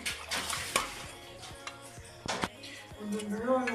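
Gram flour being whisked into buttermilk for kadhi pakora makes quick scraping and clinking strokes against the bowl, irregular and close, with a few sharper taps amid soft background noise.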